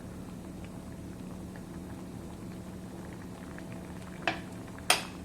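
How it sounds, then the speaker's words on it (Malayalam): A pot of tiffin sambar made without dal simmers with a soft, steady bubbling patter, quiet and continuous, broken near the end by two brief sharp clinks. "നന്നായിട്ട് ഒന്ന് തിളച്ച് വന്നാൽ മതിയാവും."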